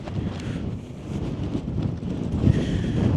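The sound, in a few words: strong wind blowing around a tent at a winter campsite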